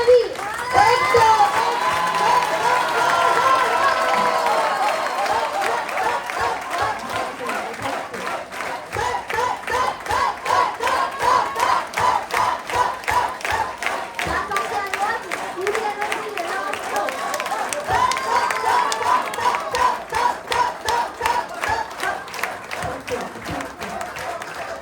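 An audience at an award ceremony bursts into sustained clapping and cheering, a dense rhythmic patter of many hands that fills the room, swelling slightly midway and continuing with shouts mixed in.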